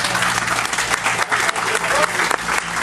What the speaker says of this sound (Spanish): le brindemos un aplauso al que no mencioné, al señor comandante Gil Armando Arroyo